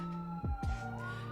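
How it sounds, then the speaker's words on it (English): A police siren wails steadily in the distance outside, its pitch sliding, with a couple of low thumps partway through. "I apologize for the sirens."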